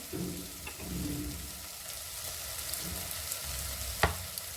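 Tomatoes with tomato sauce and chilli sauce stirred as they fry for macaroni masala: a close, even sizzle broken by soft spoon strokes and a sharp tap against the pan near the end.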